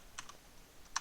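Computer keyboard typing while writing C# code for a Unity game, two crisp clicky keystrokes about a second apart, close and fairly faint.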